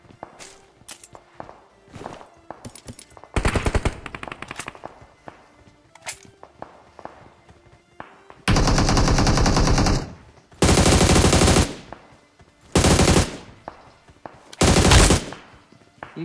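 Battle royale video game gunfire: bursts of rapid automatic fire and single shots break out between stretches of quiet footsteps, with several long loud volleys in the second half.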